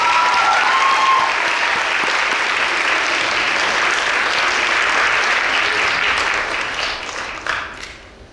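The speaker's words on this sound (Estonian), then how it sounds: "teeme neile veel ühe suure aplausi" Big audience applause at a school dance festival concert in Tartumaa during an awards segment: loud, sustained, dense clapping from a large crowd that carries on for several seconds before tapering off.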